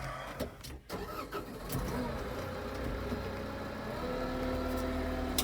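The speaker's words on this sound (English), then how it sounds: "when you get in here, you hear the tractor" A tractor engine starts up and settles into a steady low rumble and drone, close by, with some rattling at first.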